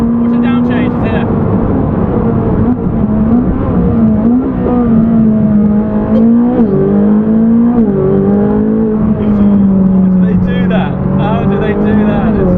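Ferrari 458 Speciale engine heard loud and close with a dual-clutch gearbox, pitch sweeping up and down through a quick downshift and revving, a steady high-revving drone filling the whole stretch, with a voice talking over it.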